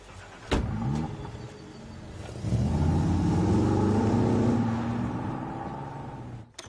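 A car drives off: a door-like thump, then the engine swells into a steady, rising rumble that fades near the end, heard alone without talk.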